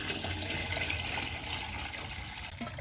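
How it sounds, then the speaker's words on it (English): Steady splashing of drinking water being poured in for homemade grape wine, a continuous broadband wash of water with no voices, close and fairly even throughout. "Auntie Moo, use drinking water, pour it in."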